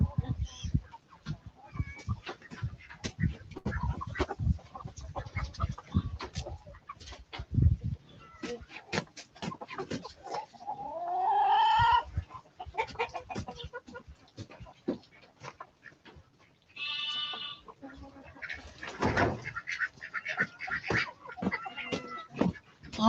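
Chickens cluck and squawk in a farm coop during morning chores, where meat birds are kept; the calls come in scattered close bursts over shuffling and movement, with a voice breaking in now and then.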